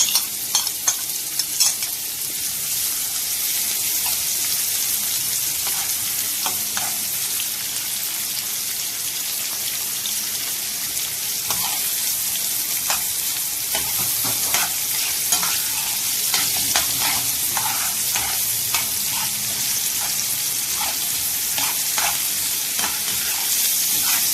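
Onions frying in a pan as part of Alexandrian-style liver and gizzards, with a steady loud sizzle and frequent spatula stirs and scrapes running throughout, no talking.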